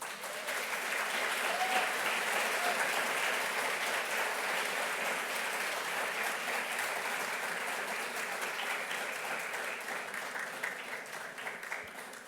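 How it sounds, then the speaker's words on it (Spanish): An audience applauds Dr. Eduardo Matos Moctezuma at the UAM Xochimilco, steady sustained clapping from a large crowd lasting the full stretch and tapering slightly at the end, with no voices over it. "para quien pido un aplauso"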